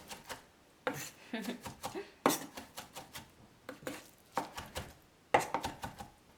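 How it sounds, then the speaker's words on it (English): Knife blade repeatedly tapping and scraping a board while chopping and mixing raw horse mackerel, quick close clusters of knocks with brief pauses, faint talk now and then. "And mix with knife like this."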